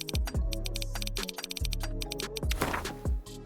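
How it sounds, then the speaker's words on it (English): Witcher 3 themed keyboard typing sounds from an Opera GX browser mod: rapid, irregular synthetic key clicks, each layered with ringing tonal chimes, close and clear. "Take a listen to these cool typing sounds from the Witcher 3 mod."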